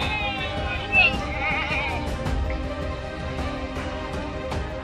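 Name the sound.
goat bleating on a goat farm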